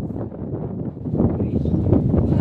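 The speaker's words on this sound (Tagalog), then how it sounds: "Lakas ng hangin." Strong wind buffets the microphone in a steady, low, rumbling roar that runs for the whole moment, loud and close, with no clear voices.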